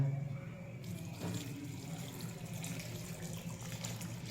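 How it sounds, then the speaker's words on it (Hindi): Water runs steadily from a tap into a pot for shami kebab, a continuous close splashing rush that fills the whole moment without any talk. "और हमने इसमें पानी डाल देना है"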